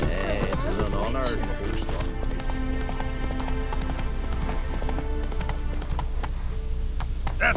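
Roach, the horse from The Witcher 3 video game, gallops in a steady clip-clop rhythm of hooves beneath continuous music and game ambience, with a voice talking over it.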